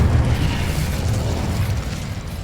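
A fire spell in Hogwarts Legacy sets off a loud, rumbling explosion: a dense, low roar that swells and churns steadily for a couple of seconds with no voices over it.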